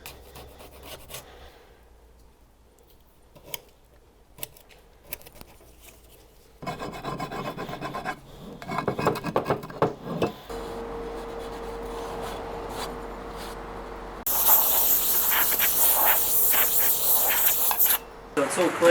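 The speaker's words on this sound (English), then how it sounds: "it does a great job for scraping off old gaskets" Old gasket material is scraped off an engine surface with a hand scraper while servicing a vintage Teles Smith Villiers two-man chainsaw, giving a steady rasping scrape that builds louder and brighter over the stretch, with no talk.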